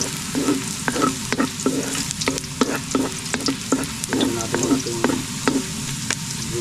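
Garlic fries in a pan while a red snapper meal is cooked, with a steady sizzle and frequent small scraping clicks from stirring, continuous and close throughout.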